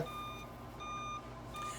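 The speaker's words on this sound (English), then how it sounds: "I apologize for the noise in the background. It's just the plow." A snow plow truck backs up somewhere nearby, its reversing alarm sounding three evenly spaced electronic beeps over a low steady engine rumble, faint and distant.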